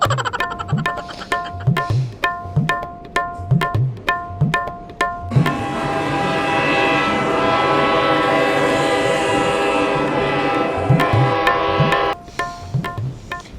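A train rolls past with rhythmic clacking of wheels over rail joints, then a loud sustained horn blares for several seconds before the clatter resumes.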